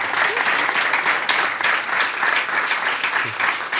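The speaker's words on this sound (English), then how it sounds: "One more round of applause." An event audience applauds continuously and loudly, a dense, sustained wash of many hands clapping at once without letting up.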